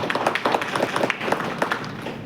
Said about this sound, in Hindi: तो हमारे दोनों ही organizers के लिए एक बार जोरदार तालियां